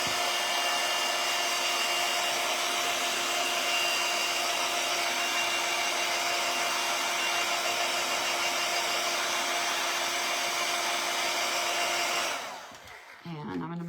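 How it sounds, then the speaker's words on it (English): A hair dryer blows steadily and loudly to dry a popsicle-stick wood craft, a constant whooshing hum with a tonal whine that runs unbroken for about twelve seconds before cutting off. "Okay, I'm gonna use my dryer again."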